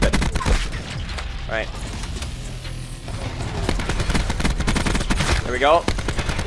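ICR assault rifle from Black Ops 4 firing in rapid automatic bursts, loud and close, with a player talking over the shooting throughout.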